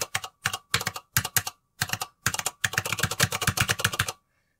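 A MechBoard64 mechanical keyboard struck hard, giving sharp, loud clacking keystrokes in short bursts separated by pauses, then a faster continuous run before stopping.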